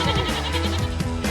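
Batur sheep, a breed with Merino ancestry, bleat loudly and continuously right after shearing, with overlapping wavering calls close by.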